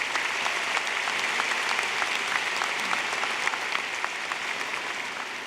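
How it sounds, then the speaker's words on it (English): Sustained audience applause at a spring commencement ceremony, a broad even wash of many hands clapping in a large hall, steady throughout and easing slightly at the close. "Let's applaud them as well"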